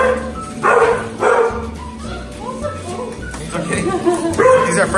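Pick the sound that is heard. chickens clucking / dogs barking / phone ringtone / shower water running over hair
dogs barking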